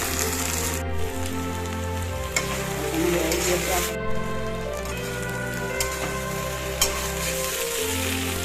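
Food sizzles and crackles steadily in a hot pan, close and continuous, with a low hum underneath and occasional clinks of stirring.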